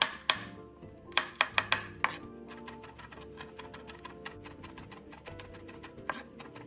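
Three garlic cloves being minced with a knife on a cutting board, a run of sharp chops that starts with a few loud separate strikes and then turns into quick, lighter, even tapping.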